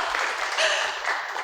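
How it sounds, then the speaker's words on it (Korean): Short burst of audience applause at a 2022 volunteer day event in Eunpyeong-gu, Seoul: a crowd clapping steadily at moderate volume for a moment. "박수 치시면 됩니다."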